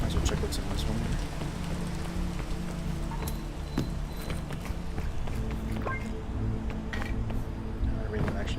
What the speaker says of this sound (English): Wait for the rain to die down.